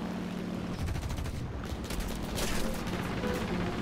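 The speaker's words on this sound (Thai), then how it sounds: "ผมยิงแบบประหยัดกระสุนแล้วกันเนาะ" Rapid bursts of machine-gun fire from a Ki-43 propeller fighter in the combat flight game War Thunder, rattling in short clusters over a steady droning engine, fairly close and loud.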